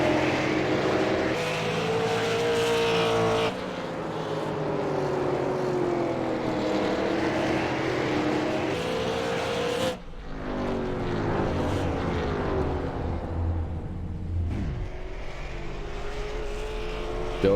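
Traxxas RC late model race cars circle a track in a steady, overlapping whine of small motors, pitches rising and falling as the cars pass, with abrupt shifts as the pack moves.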